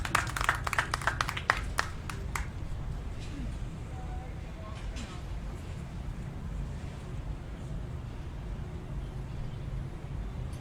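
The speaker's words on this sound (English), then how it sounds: "Please give them another round of applause." An outdoor evening crowd at a ceremony gives a short burst of clapping for an Army recruiter, a few seconds of scattered hand claps that thin out quickly, then a low background hum.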